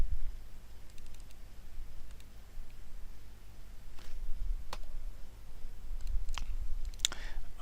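A computer mouse clicks a few times, sharp and close, in scattered single clicks over a quiet hum of background noise.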